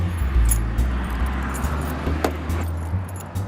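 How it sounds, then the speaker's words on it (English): Keys jangling in a video game, a few metallic clinks over a low engine-like rumble, fairly close and without talk. "Keys."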